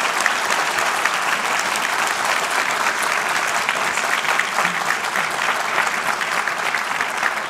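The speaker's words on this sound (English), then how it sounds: "quick applause for Bill for..." An audience at a Detroit Free Press Breakfast Club event applauds Bill Ford, with dense, steady clapping that holds at an even level throughout, no voices rising above it.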